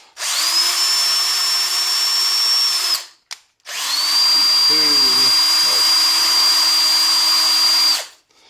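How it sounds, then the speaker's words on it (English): Vintage Milwaukee hammer drill, about 20 years old, running at speed 1: two steady high-pitched motor whines, each several seconds long, split by a short pause, with brief voice-like murmurs under the second run. "I'm saying it's a 20-year-old drill, hammer drill"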